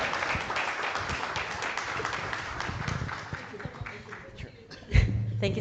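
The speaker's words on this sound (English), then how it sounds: "let's give a round of applause for this panel" Audience applause for a panel at a cybersecurity and democratic resilience forum, a steady wash of clapping across a hall that thins near the end, with a few voices and a thump at the close.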